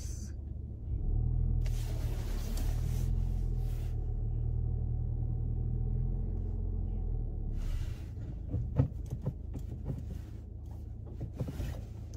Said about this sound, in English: I don't know whose car that is right there.